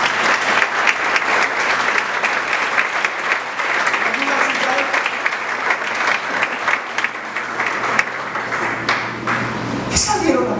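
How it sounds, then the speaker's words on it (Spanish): A church congregation breaking into applause, a dense sustained clapping with sharp individual claps standing out across about ten seconds, reverberant and lively, with a steady low hum underneath and a brief ping near the end. "un aplauso al Señor."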